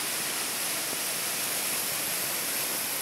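Floodwater rushes through streets after a rainstorm in Belo Horizonte, a dense, steady roar of churning water that stays constant and moderately loud throughout, with no voices.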